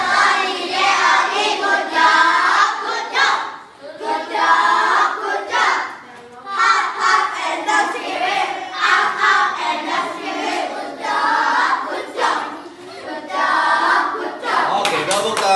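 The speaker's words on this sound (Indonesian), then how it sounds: "Oke, tepuk tangan." Children in a classroom clapping hands in quick rhythmic bursts with excited voices and shouts mixed in, loud and close, pausing briefly between bursts.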